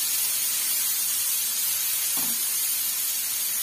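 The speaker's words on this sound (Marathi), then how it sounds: "तेल आता चांगलं तापलंय आणि बघा, मी त्याच्यात आलं, लसूण आणि कोथिंबीरची पेस्ट टाकते" Ginger, garlic and coriander paste dropped into well-heated oil for a village-style wet shrimp dish, a loud continuous close hiss and sizzle with one faint scrape of stirring partway through, no talking.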